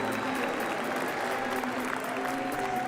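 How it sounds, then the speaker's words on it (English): At the Pokémon World Championships, the audience gives sustained applause for a Worlds finalist, a steady roar of clapping with a faint crowd murmur underneath. "Let's get a round of applause."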